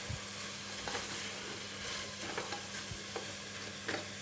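Mutton coated in salt and ginger garlic paste sizzles in a pot for biryani, with faint soft scrapes and thuds of stirring over a quiet, steady frying hiss.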